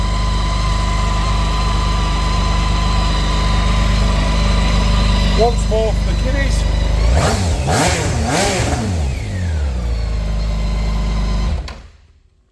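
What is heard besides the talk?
BMW K1600 GTL motorcycle engine idling and revving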